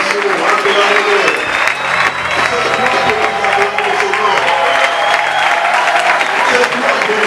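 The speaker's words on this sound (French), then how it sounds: "Et le Seigneur mérite de nos acclamations. Acclamez-le." A church congregation applauds and cheers in praise of the Lord, a loud, dense crowd ovation that sustains steadily for several seconds with voices mixed in among the clapping.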